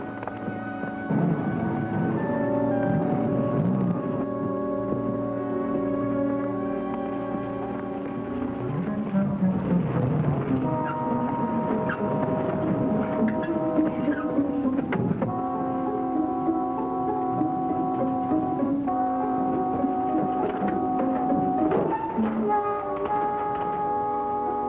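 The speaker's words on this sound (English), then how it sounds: "Some fella driving a strange-looking vehicle." An odd old contraption of a vehicle drives up a road with a steady droning engine that shifts pitch and labours at times, heard continuously at moderate distance without talk.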